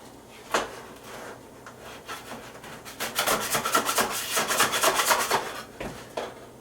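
Baked cinnamon knots scraped off the bottom of a baking pan, a rough rasping scrape in repeated strokes that grows denser and louder midway, close up with no talk.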